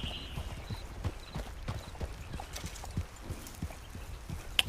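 Horses walking at an unhurried pace, hooves clip-clopping in a steady, fairly close rhythm through the whole stretch, with a faint outdoor background.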